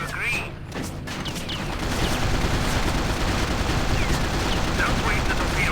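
Sustained machine gun fire in a WWII air combat game, a dense continuous rattle of rapid shots that starts after a brief quieter moment and holds loud and steady to the end, with speech mixed in.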